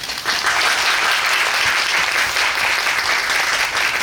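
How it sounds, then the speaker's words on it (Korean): A theatre audience applauds at a stage greeting after the musical Gwangyeom Sonata: dense, steady clapping from a full house that fills the whole stretch without a break. "김경수 배우님 박수로 그리고 카메라로 같이 맞이해주시면 감사하겠습니다."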